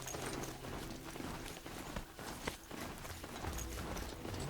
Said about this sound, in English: Nice casual horse ride.